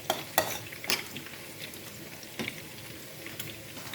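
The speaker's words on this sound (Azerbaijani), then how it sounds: "İndi qazanı qoymuşam. Yaxşı isəsin, bunu əlavə edim içərisinə." Ingredients sizzle quietly in a heated pot for plov, with a few sharp clinks and scrapes of a utensil early on over a soft, steady frying hiss.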